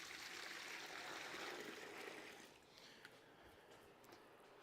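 Cold water pours into a jug to make sparge water for home brewing an ale with a Grainfather G70, a quiet continuous trickling stream that eases off partway through.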